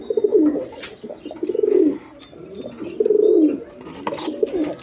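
Pigeons coo in loud, close, repeated rolling phrases, roughly one every second, with brief pauses between calls.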